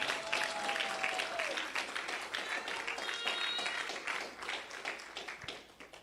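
Church congregation applause at a French-language service, a steady patter of clapping with scattered voices and cries over it, moderately faint and continuous throughout.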